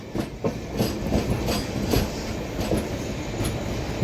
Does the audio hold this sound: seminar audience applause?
no